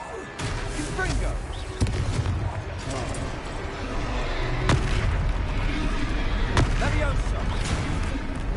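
A Confringo explosive spell blasts in Hogwarts Legacy amid combat, with sharp booming bursts standing out over a dense, continuous rumble of battle noise and effects.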